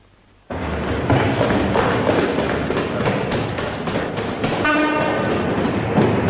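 A train rolls past up close after a quiet start, with a loud rushing rumble, rhythmic clickety-clack of wheels over rail joints and a brief horn-like tone partway through.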